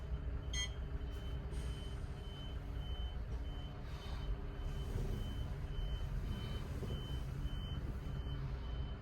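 Solaris Urbino 18 electric articulated bus pulling out of a parking spot, its reversing alarm sounding repeated high beeps over a soft steady hum and faint background noise.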